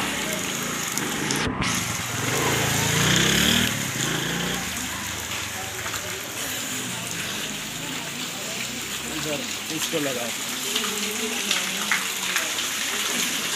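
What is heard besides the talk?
heavy rain pouring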